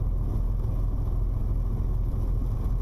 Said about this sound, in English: What is this car doing?